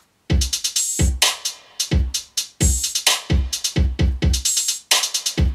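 Hard-hitting hip-hop trap-style drums play alone in a punchy, driving pattern of heavy kicks and crisp hits, separated by brief sharp gaps, over a chord progression.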